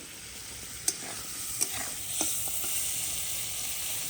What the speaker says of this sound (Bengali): দিয়ে ভাজাভাজি চলছে।